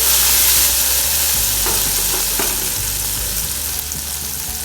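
A tempering of browned cumin seeds and coriander tips into a pot of kadhi and crackles loudly at first, then settles into a steady sizzle with a spoon stirring through it.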